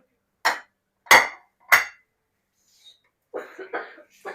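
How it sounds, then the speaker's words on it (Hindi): A child coughs three times in quick, sharp bursts, close and fairly loud, followed by a few softer breathy sounds or murmurs. "क्यों खांसी आ रही है आपको?"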